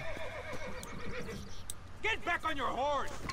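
A horse whinnies and snorts in the Red Dead Redemption video game, a loud, wavering neigh arriving near the end of the clip over game background noise, with someone talking in Spanish beforehand.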